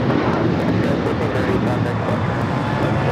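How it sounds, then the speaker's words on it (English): An Alaska Airlines Boeing 737-900ER takes off at LAX, its engines a broad, loud, steady roar with wind buffeting the microphone, while someone talks over it. "This is Alaska Airlines 1430 taking off to Puerto Vallarta on the 737-900ER."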